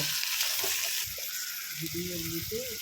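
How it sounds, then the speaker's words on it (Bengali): Whole spices and slit green chillies fry with tomato in a hot pan for fish curry, giving a steady broad hiss. Brief clinks and a few low scraping stirs sound over it, and no one speaks. "এরপর ভালো করে একটু মশলাটাকে কষিয়ে নেব"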